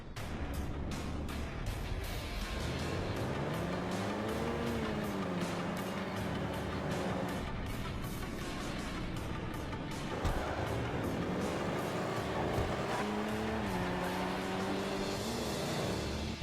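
Street race car engine in GTA 5 revving and changing pitch through gear shifts, a steady, dense engine drone running continuously with rising and falling tones throughout.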